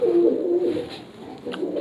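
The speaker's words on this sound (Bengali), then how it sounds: "এই যে ক্রে কবুতর" A grey pigeon coos in a home loft, close and clear, two low rolling coos early, then softer murmuring with faint background noise.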